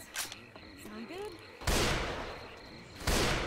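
Bursts of gunfire from the co-op zombie shooter Left 4 Dead 2, two loud broadband volleys a second or so apart, with faint chatter and a warbling tone beforehand.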